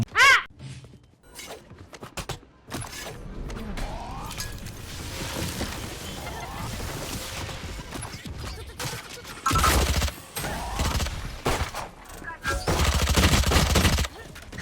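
Gunfire in the Valorant video game, with bursts of rapid shots and several louder, denser volleys toward the end, mixed with game effects and voices talking.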